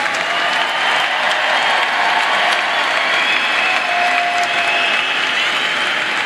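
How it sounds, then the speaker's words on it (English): Steady, dense applause from a large audience at the close of a Ball State University fall commencement ceremony, honoring the graduates; continuous and loud throughout with no pauses. "how about another round of applause for all of our graduates?"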